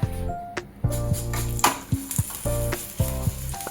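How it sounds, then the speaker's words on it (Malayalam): A chicken patty for a burger fries in a pan with a busy, crackling sizzle, while a tonal melodic backing plays in short repeating phrases over it. "ഇനി നമ്മൾ ചിക്കൻ പാറ്റി ഫ്രൈ ചെയ്യാൻ പോവാം"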